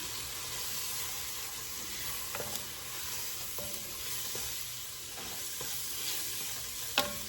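Flour, thyme, salt and pepper mixture being stirred into a pan for shrimp creole, a faint, steady sizzle with light utensil scrapes and a couple of sharper clicks near the end.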